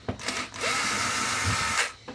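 A power screwdriver whirs steadily for about two seconds, driving a screw while mounting a mini-split air conditioner, with a brief start and stop at either end.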